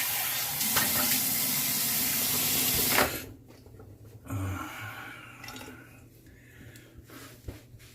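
Running water pours loudly and steadily for about three seconds while rinsing off after a head shave, then cuts off, leaving quieter splashes, drips and small handling noises nearby.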